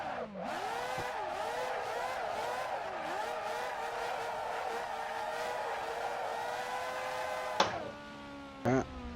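Racing car engine in the Assetto Corsa driving game, held at high revs as a clutch kick flicks the car into a drift, with rising and dipping pitch and sharp tyre or shift bursts near the end.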